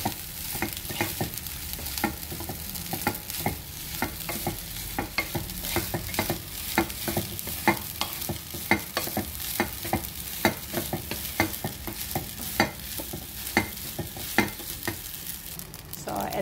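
Fried rice with sausage being stir-fried in a pan: continuous loud sizzling with regular scraping and tossing strokes of the spatula, close up and without talk.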